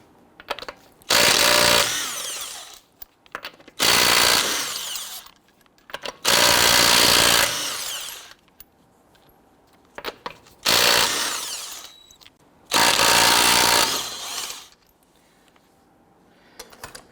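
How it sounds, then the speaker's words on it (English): An impact wrench with a 21mm socket whirrs loudly in five long bursts separated by short pauses as lug nuts are loosened and removed from a 2006-2012 Toyota RAV4 wheel, close and unaccompanied by speech. "Using a 21mm socket, we're going to loosen and remove the lug nuts."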